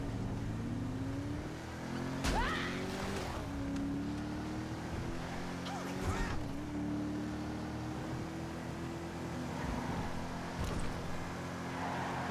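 Sports car engine from GTA 5 running steadily for about twelve seconds, a low droning hum with slight pitch rises and a couple of brief revs, fairly close and alone without talk.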